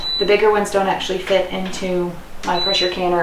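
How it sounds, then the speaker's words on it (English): Two short, high electronic beeps in a kitchen during chicken canning, one at the start and one again a couple of seconds later, with someone talking over the gap between them. "Sorry for the beeping."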